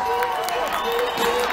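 Outdoor crowd in Piazza San Carlo, Turin, applauding the DJ at a New Year's Eve concert, a busy mix of clapping and cheering voices with a tonal, music-like line running underneath.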